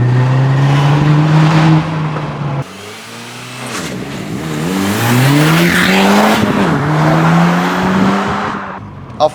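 An Audi S3 accelerates hard, its engine note climbing steadily through the revs, dropping sharply at a gear change and then pulling up again, loud and sustained with faint tyre noise.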